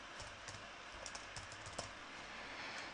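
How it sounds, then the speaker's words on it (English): Computer keyboard typing as text is entered, a steady run of quick, fairly close key clicks with a few louder strikes, heard alone. "now over this side we just type our text"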